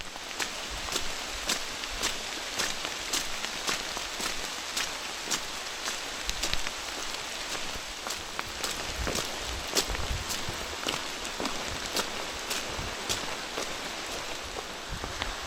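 Rain falls steadily on a tent on the Appalachian Trail, a dense hiss broken by sharp, irregular drips and taps on the fabric from close by, with no voices.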